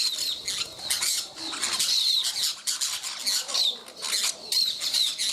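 Wild birds at Trilha dos Tucanos squawk and screech in harsh bursts while fighting among themselves, with wing flutters and scuffles close by and short gaps between the calls.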